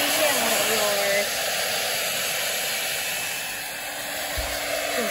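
A hair dryer blows steadily on a buck goat's thick tail during bath time, a close continuous whooshing hiss with a brief voice at the start.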